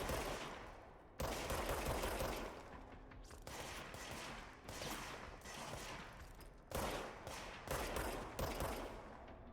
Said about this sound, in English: But now they're shooting back at me.